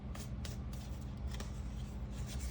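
A deck of tarot cards is shuffled and drawn, soft papery riffles and slaps repeating in quick irregular bursts, close and quiet against a low background hum.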